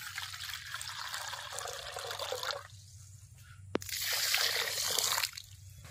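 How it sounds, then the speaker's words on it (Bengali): A bowl of water pours into sugar in a cooking pan for syrup, giving a bright rushing splash that stops, follows with a clink, and resumes before tapering off, close by. "মাপ করে এই বাটির 1 বাটি আমি জল দেব।"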